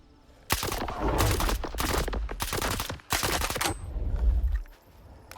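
Gunfire from a scoped rifle in the video game STALKER 2, heard as several loud sustained bursts of shots separated by brief gaps, with no talk over them.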